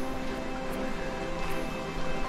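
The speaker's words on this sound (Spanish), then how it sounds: "Por todos lados se escucha correr agua." Steady rushing water from mountain streams along a trail in Las Jarillas, Córdoba, swollen after days of rain: a continuous broadband wash, close and even, with no voices.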